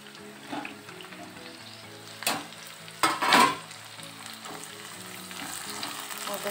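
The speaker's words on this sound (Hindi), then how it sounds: "और बस इनको अच्छे से इसमें भून लेते हैं।" Chopped tomatoes and onions fry in a pan with a soft, steady sizzle, broken by a few louder bursts as a spoon stirs and scrapes, close up and without talk.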